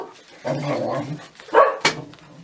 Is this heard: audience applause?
no